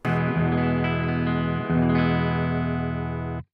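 An electric guitar plays through a Boss Katana amp channel with a noise gate. Two ringing chords sustain loud and full, and the gate cuts the sound off abruptly at the end.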